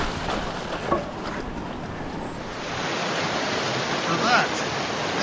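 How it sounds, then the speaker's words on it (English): Rushing stream carrying a lot of water in summer on a Welsh mountain bike trail, a steady broadband wash of flowing water throughout, fairly close and continuous, with brief faint sounds over the top. "So that is a lot of water for a stream in summer"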